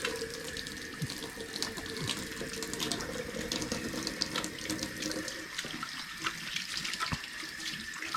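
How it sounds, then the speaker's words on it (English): A tap runs steadily into a sink while sticky hands are washed, with a constant splashing hiss and small knocks throughout, nearby and moderately loud, with no talking. "Okay, now my hands are all sticky. Might be an idea to wash them."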